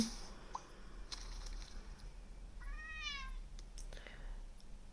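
A cartoon cat meows once in a cat-collecting video game, a short rising-and-falling call heard faintly over soft background music and game sounds, with a few small clicks before it.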